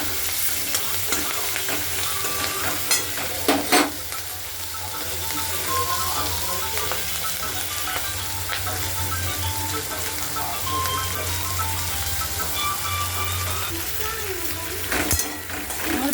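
Garlic frying in oil in a pan for a Bengali fish curry, with steady close sizzling and occasional stirring scrapes running throughout, no talk.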